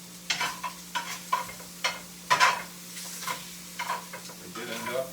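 Shrimp fajitas being stirred in a pan with lime juice and cilantro, a series of soft scraping, clattering strokes every half second or so over a faint sizzle, close by, with a steady low hum beneath.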